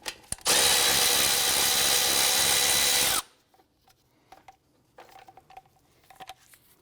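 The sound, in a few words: power tool removing two 10mm bolts from car knuckle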